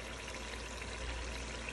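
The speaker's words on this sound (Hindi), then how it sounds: "अब हम इसमें पानी डालेंगे" Water poured into a cooking pot of chana dal with onions and spices, a soft steady rushing pour lasting the whole short stretch, faint and close, without speech.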